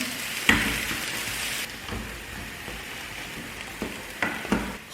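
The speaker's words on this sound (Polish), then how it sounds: "Na patelnię wrzucam szpinek, który, który e, musi się troszkę, że tak powiem, rozmrozić." Frozen spinach thaws and fries in a pan, giving a quiet, steady sizzle broken by a few sharp pops and clicks, heard close with no voices.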